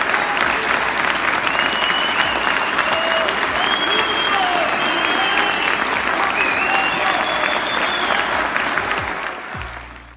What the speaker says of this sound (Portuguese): Esse vídeo mostra o procurador sendo recentemente aplaudido de pé em um teatro de Curitiba durante um congresso de urologistas